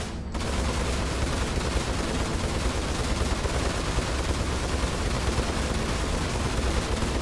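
Ship guns in the Star Citizen video game fire in a steady, dense stream of rapid shots that starts abruptly and runs continuously at high, even loudness throughout.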